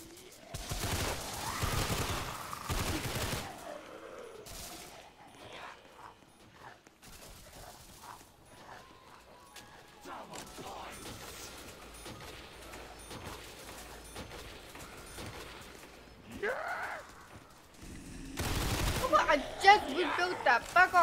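A gun fires in a Roblox zombie game, with sharp bursts of shots in clusters near the start and end and scattered quieter shots between, while a player talks in between.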